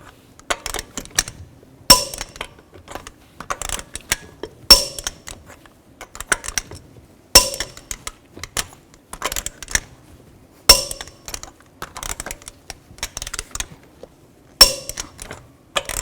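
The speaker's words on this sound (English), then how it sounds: "Now I'm going to torque these lug nuts to 140 foot-pounds in a cross pattern or a star pattern to tighten the wheel down evenly." Torque wrench tightening lug nuts on a GMC Acadia wheel in a star pattern, a series of sharp metallic clicks and clunks in separate bursts with quiet gaps between, close and alone.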